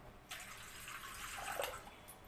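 Water is poured from a small bowl into a cooking pot in a home kitchen, a soft splashing trickle lasting about two seconds, close and fairly quiet, with no talking.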